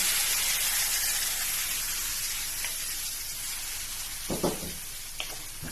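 Marinated liver and meat sizzle loudly in oil with garlic fried crisp for igado, a steady broadband frying hiss throughout with a few brief louder crackles and pops near the end.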